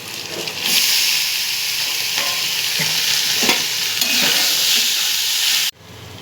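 Washed flattened rice and raisins hiss and sizzle in a hot pan, a steady bright frying sound with soft stirring scrapes, close by, cutting off abruptly near the end.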